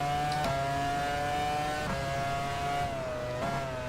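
A Formula One race car engine in the racing game F1 Challenge 99-02 on the German circuit: a continuous high-pitched engine whine that rises steadily and drops sharply at three gear shifts, with no talking.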